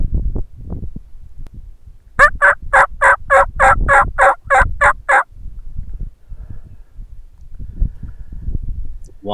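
A wild turkey gobbles in a rapid rattling burst of about ten pulses, loud and close, between stretches of rustling and low background noise.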